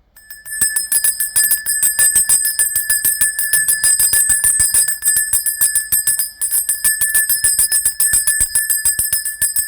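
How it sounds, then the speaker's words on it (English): A bright metallic bell is struck in rapid, continuous repetition for about nine seconds, loud and close, with sustained high ringing tones and only brief pauses. "Let's ring the bell."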